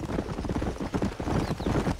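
Horse hooves clip-clop steadily at a brisk pace in the Red Dead Redemption video game, a continuous rhythmic clatter with no talking over it.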